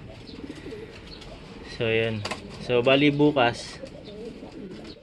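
Racing pigeons coo in loud, close bursts during a first 8 km training toss, rising over a steady outdoor background while someone talks throughout.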